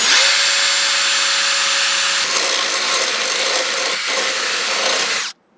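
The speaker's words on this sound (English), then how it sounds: "Just drill a hole and hope for the best again?" A power drill whirs steadily through wood at close range for about five seconds while working on an E36 M3, its motor tone shifting slightly before stopping abruptly.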